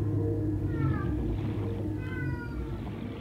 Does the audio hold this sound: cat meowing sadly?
yes